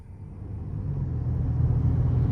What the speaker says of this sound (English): So starting the test drive in the Enclave here